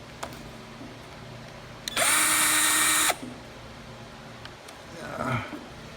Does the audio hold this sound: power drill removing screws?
yes